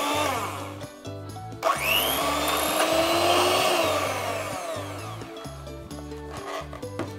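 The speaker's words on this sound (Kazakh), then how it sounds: "Оның үстіне 220-250 грамм кілегейімізді құямыз және бұны да миксерлейміз." An electric mixer whips 220-250 grams of cream for a Snickers cake, a steady close whirring with a pulsing low motor tone and brief pauses as the beaters work, no talking.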